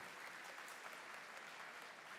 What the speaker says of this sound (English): A good round of applause for their work